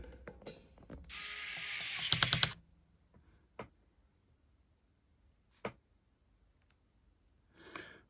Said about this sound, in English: Let's get some screws in.